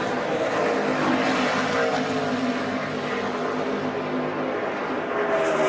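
NASCAR Nationwide stock cars race at Charlotte in the 2010 Dollar General 300, their engines making a loud, continuous, droning roar that holds steady throughout.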